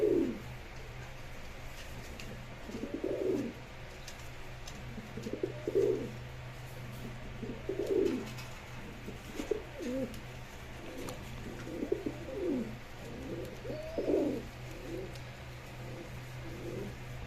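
Pigeons at a Bangladeshi pigeon sale, including a male Akashi Golla pair, coo in repeated low rolling bursts roughly every two seconds over a steady background hum, with a faint voice now and then.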